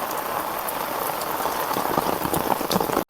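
Heavy rain pours over farm fields in a dense, constant hiss of drops hitting surfaces and water. It is loud and unbroken, with a brief cut-out just before the end.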